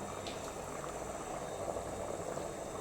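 Mutton curry simmering in a pot, a soft, steady bubbling and gentle hiss at low volume with no voices.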